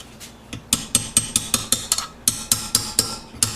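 A hammer strikes a punch about a dozen times in a steady rhythm, bending a lock tab into a nut during rear wheel assembly on a 1973 Honda CB750. The sharp metallic taps are close and loud, with a short pause partway through.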